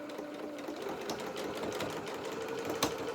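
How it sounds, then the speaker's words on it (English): Sewing machine stitching lace onto the legs of doll bloomers along a quarter-inch seam: a steady, close, continuous mechanical whir and rapid needle clatter running throughout, with a small knock near the end. "we're going to sew that 1/4 of an inch seam allowance all the way up those legs"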